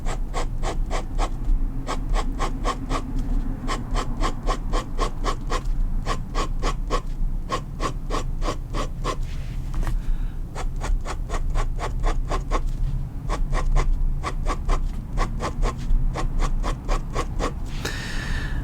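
A fountain pen loaded with Noodler's Black ink scratches across paper in steady, rapid repeated strokes, close and continuous with short pauses between bursts of line drawing, with no talking.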